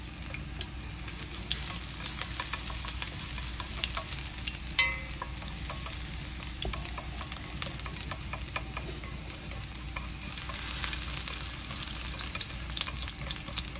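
Garlic browns in hot oil in a pan, a continuous close sizzle with scattered pops and a few stirring clinks and scrapes.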